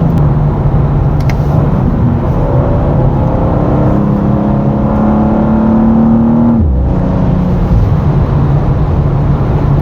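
BMW M2 (G-body) accelerating hard on a public road while overtaking, a loud close engine note climbing steadily in pitch for several seconds before dropping sharply as the driver lifts off, then settling into a steady cruise.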